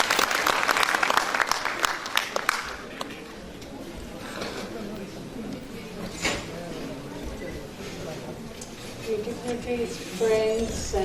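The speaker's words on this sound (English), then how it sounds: "Give her a big round of applause" A gathering at a medical and allied health sciences conference claps for a speaker invited to the podium, a burst of loud applause that fades within a few seconds, followed by scattered rustling, a few isolated noises and some talk.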